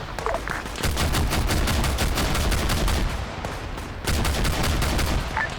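Gunfire crackles in a military video game battle: dense bursts of automatic fire at moderate distance, with a short pause midway before the volleys resume.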